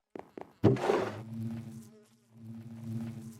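A Minecraft bee called Benadryl Buzz, from the All The Mods 10 modpack, gives a soft, steady, low buzzing drone after a few quick clicks, faint and alone.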